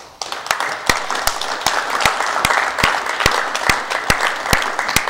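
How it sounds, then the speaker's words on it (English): An audience at the Granada Forum applauds a speaker after an evening talk, with steady, full applause and a few sharp, evenly spaced claps standing out above the dense wash of hands. "Let's give him one more round of applause"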